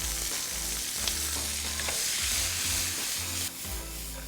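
Chopped onions sizzle loudly in a pan of oil with tempered whole spices such as cardamom, cumin and coriander seeds, a continuous close frying hiss with occasional stirring scrapes and low thumps, no talking.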